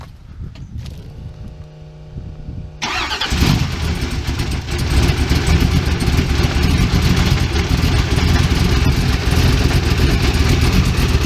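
A supercharged hot rod engine cranks briefly with a whirring starter, then catches and settles into a loud, steady, rumbling idle close by, with no talking.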